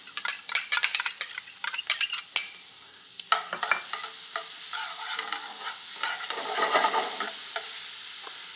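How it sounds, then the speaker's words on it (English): Onions go into a little extra oil in a pan still glazed with shrimp residue, cooking Greek style. Close utensil clatter and taps at first give way to a loud, continuous crackling sizzle. "So in the same pan, a little bit more oil, and in goes onions."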